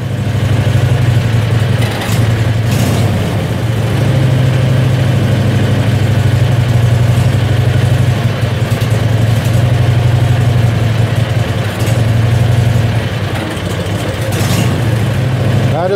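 A Predator 670cc engine idles with a little choke on, a loud, steady low rumble that stays close and even for the whole stretch, with no voices.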